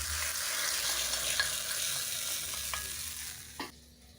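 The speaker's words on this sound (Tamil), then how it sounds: "இதெல்லாம் அந்த எண்ணெயில் நல்லா பரட்டி விட்டுட்டு கீரையில் சேர்த்துக்கலாம்" Crushed garlic sautéing in oil for a mixed greens and raw banana dish, a soft continuous sizzle with scattered crackles and a few stirring scrapes, fading out at the end.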